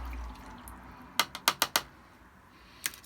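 A watercolour paintbrush rinsed in a water pot, heard as a quick cluster of four or five close, sharp taps and clinks against the container, then one more a moment later, over quiet room tone.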